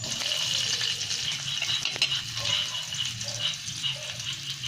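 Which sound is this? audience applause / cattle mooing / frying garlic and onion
frying garlic and onion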